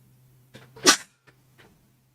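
A single sharp human sneeze, brief and close, with a small intake of breath before it and a faint sniff afterward in an otherwise quiet room.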